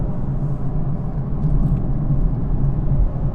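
A 2019 Chevrolet Camaro 1LE with a 2-litre engine rolls through a turn on rough road, a loud, steady low rumble of engine and tyres heard from inside the car.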